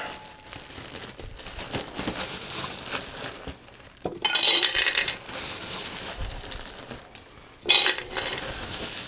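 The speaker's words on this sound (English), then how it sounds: "Gonna get some more ice put into this bowl here." Ice going into a tiki style bowl, a dense rattle and clink of cubes in two loud bursts separated by quieter handling sounds nearby.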